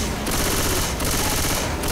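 Rapid automatic gunfire in the zombie shooter Left 4 Dead 2, loud dense bursts rattling continuously with brief gaps between volleys.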